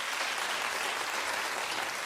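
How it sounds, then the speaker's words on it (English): Studio audience applause on a daytime talk show, a dense, steady wash of clapping filling the whole short stretch without a break. "You gotta clap for this, oh, well, I will"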